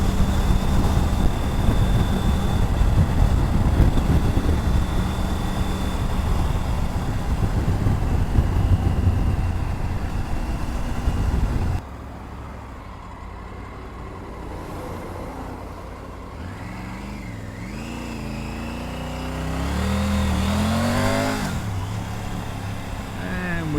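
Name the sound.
Triumph Tiger 900 Rally Pro motorcycle engine while riding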